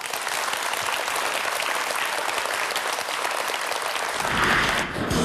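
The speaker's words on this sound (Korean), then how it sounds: "큰 박수 부탁드리겠습니다" Studio audience on a Korean TV quiz show applauds a contestant who answered a hard seventh-stage question, a dense, steady roar of many clapping hands that swells briefly near the end.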